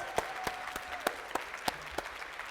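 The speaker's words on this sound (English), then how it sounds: "let's give the kitchen staff a massive round of applause for our dinners." Guests at a college apprenticeship awards evening clap for the kitchen staff, a fairly thin spread of applause with distinct, evenly spaced loud claps ringing out over softer patter, heard alone in a reverberant room.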